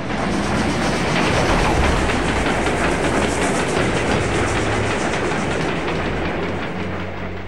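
Train rolling along the tracks in the video game Resistance 3, a steady, loud rumble with faint clickety-clack running for the whole stretch, no talking over it.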